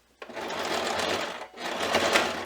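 Sewing machine stitching around the lining of a quilted stocking: a close, steady mechanical whir running in two bursts with a brief pause between, loud and continuous.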